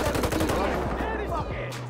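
Fast, rhythmic machine-gun bursts rattle in quick succession in a video game firefight in a favela, loud and close, fading out with a low hum near the end.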